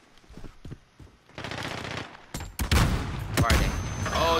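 Rapid bursts of P90 submachine gun fire in the video game Modern Warfare, loud and close, with sharp repeated shots building into sustained automatic fire and faint voices underneath.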